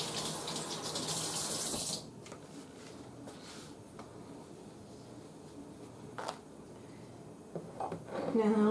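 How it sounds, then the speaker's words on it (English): Running tap water rinses hands at a kitchen sink, a steady broadband wash loudest for the first two seconds, then softer splashing and drips with a few clinks, with a voice talking at times. "Rinse my hands off."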